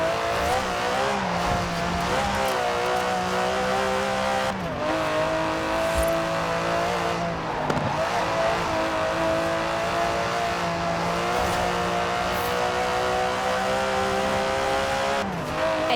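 Aston Martin DB11 with a 5.2-litre twin-turbo V12 in Forza Horizon 4, revving loudly and close with repeated gear shifts, rising and falling engine pitch, and brief tire squeal across sustained acceleration.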